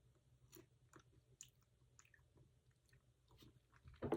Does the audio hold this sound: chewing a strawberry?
yes